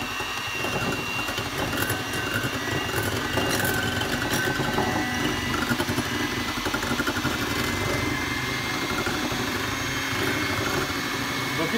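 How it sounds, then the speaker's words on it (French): An electric hand mixer beats eggs and mustard for mayonnaise, giving a steady, continuous motor whir with a rattling edge throughout, close and fairly loud, with no talk. "je commence à mélanger doucement au batteur"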